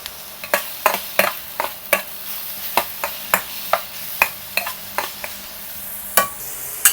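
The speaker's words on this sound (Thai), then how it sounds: "นำหัวหอมลงมาผัดก่อนนะคะ ผัดให้สุกก่อนเนาะ" Onion stir-frying in a pan, crisp repeated clacks of the spatula against the pan at an uneven brisk rhythm over a soft sizzle, close and clear, no talking.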